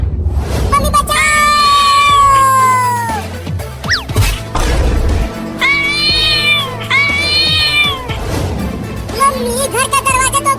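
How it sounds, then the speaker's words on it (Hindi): Loud, drawn-out cat meows and yowls, several in a row with short gaps, over background music and a few thumping hits. "तो एक खतरनाक बिल्ली घर में कैसे आ गई?"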